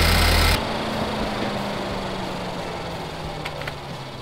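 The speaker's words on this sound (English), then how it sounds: "I'm gonna let it run a bit to reach normal engine running temperature" A Ford Focus ST engine idles steadily while warming up, a low hum and faint mechanical rattle, continuous and unchanging, after a brief louder burst at the start.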